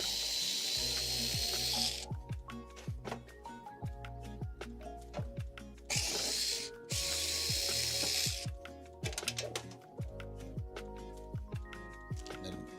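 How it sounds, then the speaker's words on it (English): M4 screws being unscrewed from a back panel with a hand tool: repeated short ratcheting clicks and light scraping, up close and fairly quiet, broken up by brief louder bursts of noise. "These M4 screws that you have to take off."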